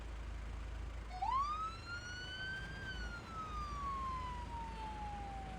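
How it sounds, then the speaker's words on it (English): An emergency vehicle siren rises sharply and then slowly falls in one long wail, heard from a short distance over a low road rumble. "Make sure you use your siren, your lights and sirens, please."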